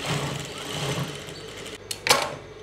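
Sewing machine running a steady stitch over elastic on a salwar, a close mechanical whirring that stops near the end, followed by a couple of brief clicks.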